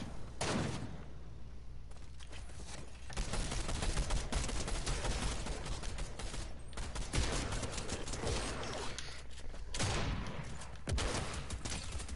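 Auto shotgun fires in a video game firefight, a dense run of heavy, rapid blasts with several louder shots standing out through the clip, with no talking over them.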